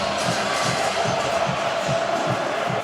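Stadium crowd at a college football game, Virginia Cavaliers against California Golden Bears, roaring in a steady wash of cheering with rhythmic low thumps pulsing beneath, loud and continuous with no clear voices.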